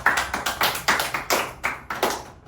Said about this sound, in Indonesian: boleh kita tepuk tangan dulu nih, kita akan tepuk semangat.